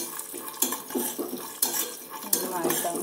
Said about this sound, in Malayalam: നെയ്യ് ഒഴിച്ച് കൊടുക്കാം. എന്നിട്ട് അതിൽ നമ്മുടെ കാഷ്യൂനട്ടിട്ട് നന്നായിട്ട് വറുത്തെടുക്കാം.